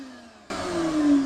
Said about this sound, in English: I'll vacuum this and then we'll move on to the back.